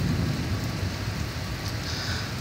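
Steady outdoor rain during a spell of bad weather, falling as a dense, constant hiss with no break.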